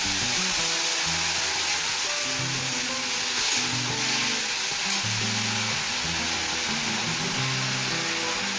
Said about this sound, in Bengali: তো আমি সয়া সসটা দিয়ে দিচ্ছি।